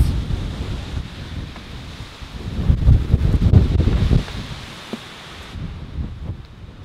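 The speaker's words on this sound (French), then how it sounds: "Gros vent, grosse pluie, même grêlon." Strong storm wind with heavy rain and hail roars and buffets the microphone outdoors, building to a loud gusty peak in the middle before easing slightly.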